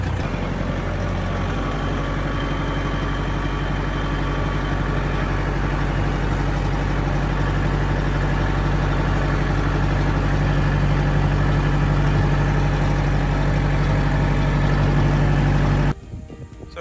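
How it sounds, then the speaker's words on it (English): A tractor runs with its cultivator tines lowered to barely touch the ground. The engine drones steadily and loudly close by, then cuts off abruptly near the end. "what I'm going to do is I'm going to lower these tines just so they contact the ground, just barely"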